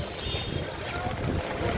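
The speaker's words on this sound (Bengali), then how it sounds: "বৃষ্টি শুধু না, বৃষ্টির সাথে যে ঝড় উঠতেছে" Storm wind with rain sweeps a flooded street in Rajshahi, a constant loud rushing roar with gusty buffeting against the microphone.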